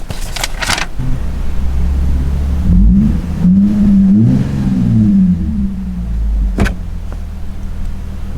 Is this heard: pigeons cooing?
no